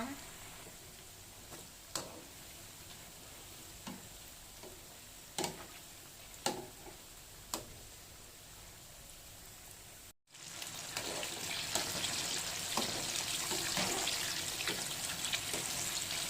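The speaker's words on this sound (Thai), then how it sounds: "ทอดต่อจนสุกเหลืองกรอบได้ที่ตามที่ต้องการนะคะ" Spring rolls stuffed with crab stick and cheese frying in hot oil, a soft crackle with scattered pops at first, then a louder, denser sizzle that holds steady.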